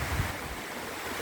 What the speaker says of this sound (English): There's a river that's becoming our valley again